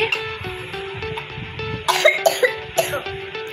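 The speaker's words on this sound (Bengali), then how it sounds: "কাশি তো হচ্ছে ভীষণ পরিমাণে।" A person with a cold coughs several times in quick, harsh bursts, close and fairly loud over a steady low hum in a room.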